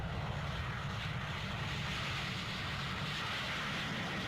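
Concorde 002 jet aircraft on its takeoff run, a continuous loud broadband engine roar that holds steady throughout with no voices over it.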